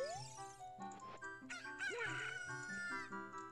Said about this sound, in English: Oh yeah, I need a chicken. I forgot. Okay, the chicken.